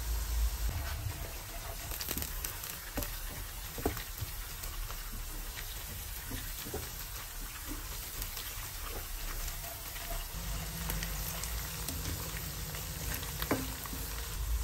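Whole garlic cloves fry in a pan with a steady, close crackling sizzle and occasional sharper pops, continuous throughout with no voices.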